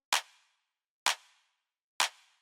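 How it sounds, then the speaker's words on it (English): Tight, sharp clap sample for a deep minimal house beat, struck three times at an even pace about a second apart, each a crisp, bright hit with a quick decaying tail, dry and isolated. "The next thing we have here is the clap, which sounds like this."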